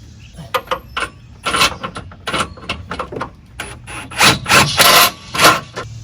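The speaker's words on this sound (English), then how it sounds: "we'll get that bolt run in real quick." Rapid mechanical ratcheting, close and loud, as a bolt is run into a Synergy rear adjustable track bar on a Jeep, coming in a series of short bursts with brief pauses and growing stronger toward the end.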